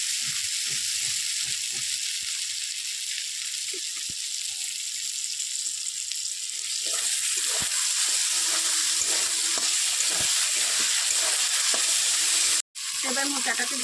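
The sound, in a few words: frying spiced banana flower curry in oil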